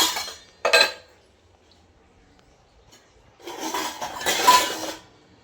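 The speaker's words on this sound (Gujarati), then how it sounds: "હવે વાસણ બધા મેળવી દઉં" Kitchen utensils clatter nearby as they are put away in a home kitchen, with a short clink early on and then a longer burst of metallic rattling and scraping, quiet between the two.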